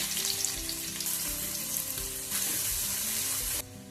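Sliced onions frying in butter and coconut oil, a loud close sizzle that runs steadily and drops sharply near the end.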